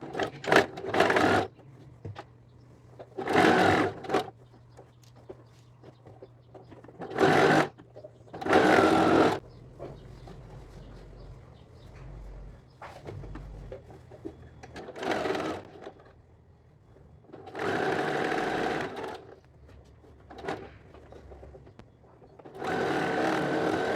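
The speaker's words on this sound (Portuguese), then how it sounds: "Agora vamos lá na máquina, passar uma costura fechando aqui." A sewing machine stitches a seam closing the armhole of a lined child's dress, running in several short bursts separated by pauses, close and fairly loud.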